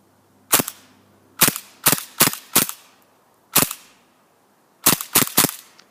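An airsoft Mac-11 fires on semi-automatic, giving nine sharp, loud, close snapping shots in irregular clusters with short pauses between them.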